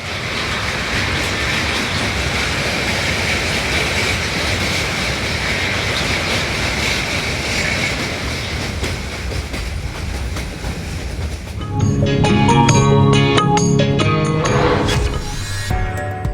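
The Kapotaksha Express passenger train from Rajshahi to Khulna rumbles steadily along the tracks with a dense, continuous roar, then clanking and ringing metallic tones join in near the end.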